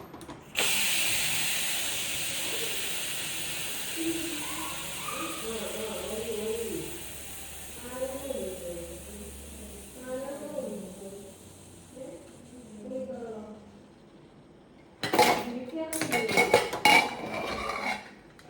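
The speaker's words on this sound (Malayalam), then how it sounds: "അപ്പം നമുക്ക് കുക്കർ തുറന്നു നോക്കാം," A pressure cooker of cooked horse gram is opened, with a hiss of steam at the start and metal clanks of the lid and pots near the end. A person talks in between.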